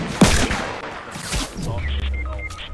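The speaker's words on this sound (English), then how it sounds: "somebody was firing at us" Gunfire in a Fortnite match: a sharp crack at the start, then scattered shots and muffled booms amid game noise, with a low rumble building toward the end and no clear talk.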